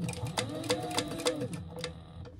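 Sewing machine running a straight seam with a short back stitch, a rapid mechanical clatter in two close bursts with a brief pause between, loud and near.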